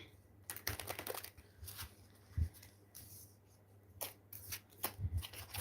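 Tarot cards are shuffled in quiet, crisp bursts of riffling and flicking, with soft pauses between bursts and a few light taps, close and faint.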